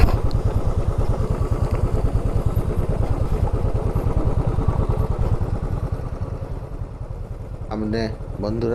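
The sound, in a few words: motorcycle riding on a rough off-road track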